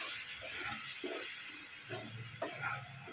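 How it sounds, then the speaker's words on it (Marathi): Steady close hiss and sizzle of masala frying in hot oil, a continuous bright spattering texture throughout with faint clinks and no talking. "आणि हे छान असं फ्राय करून घ्यायचं."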